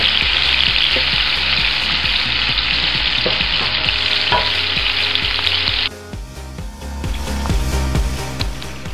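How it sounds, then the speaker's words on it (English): Vegetables for a shrimp and broccoli dish sizzle steadily in a hot pan, a loud, continuous frying hiss with small pops that drops to a quieter sizzle partway through. "the vegetables have been cooking for about like a minute or two"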